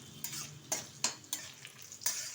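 Broken cashews and raisins sizzle in melted butter while a spoon stirs them, a quiet steady frying hiss broken by several scraping strokes against the pan.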